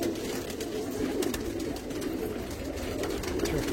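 Pigeons coo softly in a loft of Andhra pigeons, with low, repeated murmuring calls over quiet background noise.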